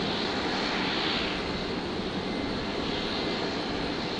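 A Virgin Boeing 737 jet arrives at Brisbane Airport from Melbourne, producing a loud, steady broadband roar that holds constant throughout, with no talking.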